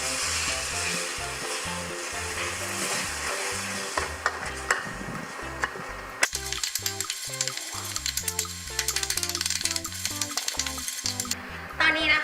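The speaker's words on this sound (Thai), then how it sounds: "เราก็ผัดจน พริกแกงกับกะทิของเราเนี่ยแตกมันแล้วนะคะ" Red curry paste stir-frying with coconut milk in a pan for red curry chicken with preserved bamboo shoot: a steady close sizzle with spoon stirring and scraping, under prominent background music.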